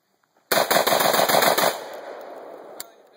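A gun fires a quick burst of about eight shots close by, followed by a fading echo and one last faint shot, with no talking over it.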